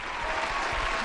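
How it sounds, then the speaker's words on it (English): A brief burst of crowd applause plays as a sound effect on a podcast, a dense, even wash of clapping lasting about a second. "Let's get a round of applause for 50 Cent going, man."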